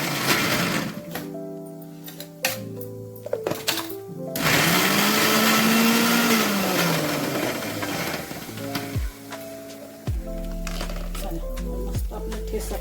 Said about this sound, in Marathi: मस्त आपला ठेसा पण वाटून घेतला मी भाजीचा.